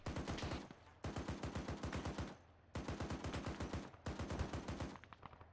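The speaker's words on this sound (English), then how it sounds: "You're shooting too high." Bursts of rapid machine-gun fire in a video game, several long volleys of evenly spaced heavy shots with brief pauses between them, loud and close.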